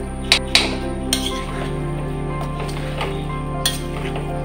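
Masala-coated chicken being stirred with curry leaves in a pan for Chicken Kondattam, with a few sharp clinks of a spoon against the pan over a steady low hum and faint sizzle, no talking.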